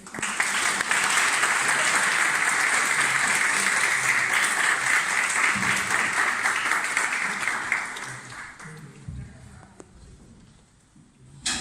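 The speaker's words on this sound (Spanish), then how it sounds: "les vamos con un fuerte aplauso" An audience at a lecture on contemporary Japanese cinema gives loud, sustained applause for about eight seconds, then it thins out and fades to scattered claps and quiet.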